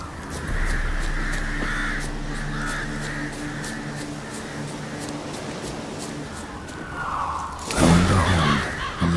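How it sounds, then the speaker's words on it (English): Ordinary ravens caw in The Witcher 3 video game, a steady run of harsh, repeated calls over a hiss of wind-like ambience, ending in a louder rushing flutter near the end. "Ordinary ravens, looks like."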